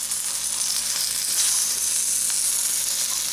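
Corned beef Reuben sandwiches sizzling loudly in a hot pan right after flipping, a dense, constant hiss close up with no speech over it.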